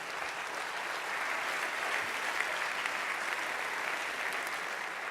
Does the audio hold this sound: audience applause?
yes